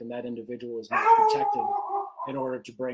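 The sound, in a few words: dog barking in the background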